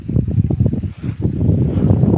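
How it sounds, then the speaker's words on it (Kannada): Strong wind over farm fields buffeting the microphone in low, gusty rumbles, steady and close, with no voices. "ತಣ್ಣನ ಗಾಳಿ ಬೀಸ್ತಾ ಇದೆ"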